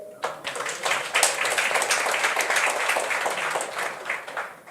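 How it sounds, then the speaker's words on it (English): Workshop audience clapping for a panel, a lively burst of hand claps from a medium-sized crowd, fairly close and sustained for a few seconds. "Can we please clap to this amazing panel?"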